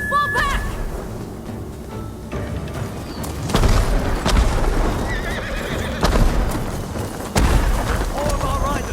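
Horses whinny and gallop amid a chaotic battle in Ghost of Tsushima's Iki Island expansion, with shouting voices, clattering hooves and deep booms surging in several loud waves over a constant din.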